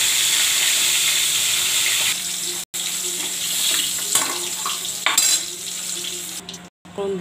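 Boal fish pieces frying in hot oil, a loud dense hissing sizzle that holds steady for several seconds with a few brief dropouts and crackling bursts, close up and with no talk.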